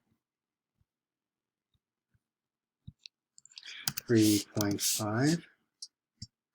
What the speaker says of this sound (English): It's a lot of typing, right?